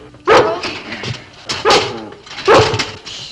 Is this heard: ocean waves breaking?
no